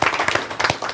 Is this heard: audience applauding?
yes